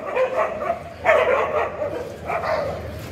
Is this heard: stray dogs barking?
yes